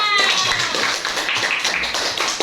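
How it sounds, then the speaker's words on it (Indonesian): Schoolchildren in an Indonesian classroom clap for a group of classmates, a busy, close clatter of many hands that stays loud and dense, with a brief voice at the start. "Sama semua tepuk tangan dulu untuk kelompok 5."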